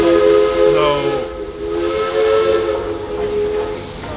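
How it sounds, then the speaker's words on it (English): A steam whistle sounds steadily in the distance, its layered tones holding for about four seconds with a slight dip midway, heard alone without talk. "do I hear a train?"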